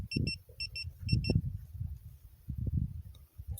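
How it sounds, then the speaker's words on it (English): A car alarm or lock beeps outdoors in three short bursts of paired high electronic tones, fairly distant, over low rumbling wind and handling noise. "think my car is beeping"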